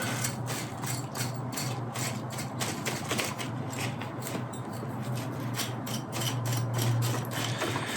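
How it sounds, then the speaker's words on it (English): Potting soil being raked and scraped out from the roots of a jade bonsai grown from a cutting, giving steady, close scratchy rasping with rhythmic strokes and no talk. "So I'm going to try and rake some of this out."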